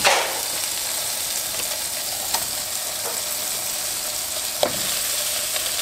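Sausages frying in a pan give a steady, bright sizzle throughout, with a couple of faint clicks and scrapes, close and without speech.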